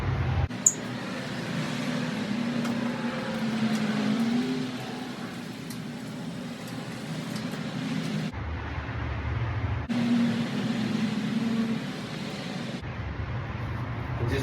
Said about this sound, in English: I'm gonna hook it up to the seats and just make the rails come up